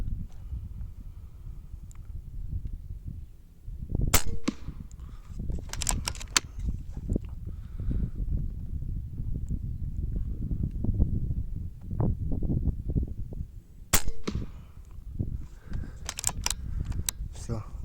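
A front-cocking Jäger 6.35 air rifle fires several sharp, separate cracks outdoors in the wind, with gusty rumble and handling noise between shots.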